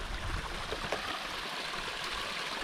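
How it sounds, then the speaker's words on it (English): A stream at a trail water source near a shelter, flowing in a steady broadband rush with soft trickling and gurgling throughout, fairly close and continuous with no voices. "Here's the water source."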